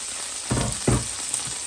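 Mini slider burgers fry in a pan, a steady close sizzle hissing throughout with two brief louder crackling bursts near the middle.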